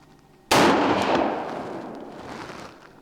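A single loud Colt Gold Cup National Match pistol shot cracks sharply at close range, its blast ringing out and decaying over a couple of seconds with no talk.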